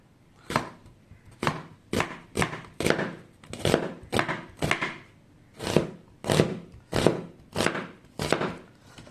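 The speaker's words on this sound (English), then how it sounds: "So this is the way I will slice them, all the halves" Steady knife chops on a cutting board while slicing vegetable halves for chicken curry, a run of about fifteen crisp, close thunks at a fairly even, unhurried pace with no talking.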